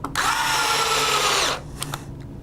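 A Hitachi power screwdriver with its torque set around 15 drives screws into a control panel, making one close, loud whirring burst of about a second and a half, followed by a few small clicks.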